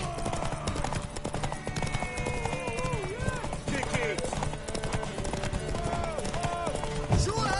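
Horse hooves clip-clop steadily through a Witcher 3 game scene, with an occasional whinny, under a dense game soundtrack and character voices talking.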